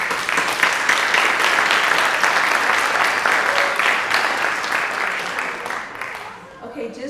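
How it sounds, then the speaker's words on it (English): Sustained applause from an audience honoring students at a social justice education event, steady and dense for several seconds before tapering off at the end. "So we just want to applaud you."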